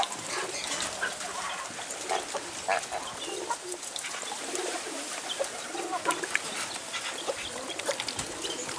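Busy duck noise at an automatic feeder: clucking and scattered calls from several birds, with occasional wing flaps, steady throughout at a moderate distance.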